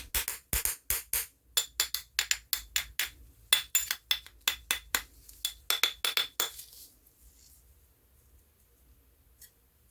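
A spoon scrapes and taps around the edges of a freshly unmolded bath bomb, making a rapid series of sharp, close clicks and scratches for several seconds before going quiet, with one faint tap near the end.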